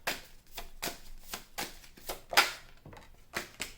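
Tarot cards are shuffled and drawn by hand, giving a run of soft, quick papery riffles and slides in rhythmic bursts, close up with no voices.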